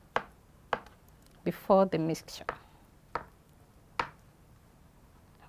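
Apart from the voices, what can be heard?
knife chopping boiled eggs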